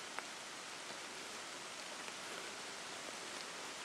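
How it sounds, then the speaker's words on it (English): Heavy rain pouring down in woods along a walking trail, a dense steady hiss of falling water with occasional louder drops, continuous and close, no talking. "By God, it's chucking it down."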